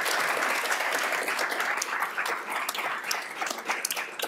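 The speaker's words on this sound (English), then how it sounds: "please give one more nice round of applause for these candidates" Audience applause for school board candidates at a candidates forum, a dense steady wash of many hands clapping indoors, fairly loud and continuous, thinning slightly toward the end.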